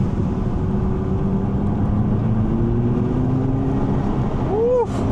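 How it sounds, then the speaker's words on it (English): Porsche 911 GTS of the 991.2 or 992.2 generation with a sports exhaust, heard through an open window as a loud, steady engine drone with a slight rising pitch, then a short chirp near the end. "the sound of the sports exhaust on this car is just awesome"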